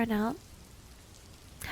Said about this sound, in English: it's actually raining in game too